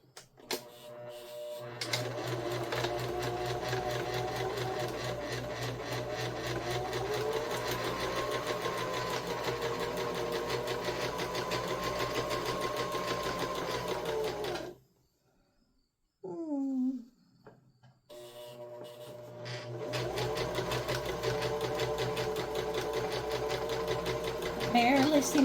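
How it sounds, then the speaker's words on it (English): A sewing machine hums in a steady close mechanical whir as it back stitches a few stitches, stopping briefly for a short pause with a small squeak before running again. "I'm going to back stitch just a couple stitches."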